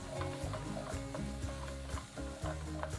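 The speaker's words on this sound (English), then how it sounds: "Cook these for a few minutes until the onions start to get nice and brown." Finely diced whole onion frying in a pan, a steady close sizzle with occasional stirring scrapes and clinks, no talking.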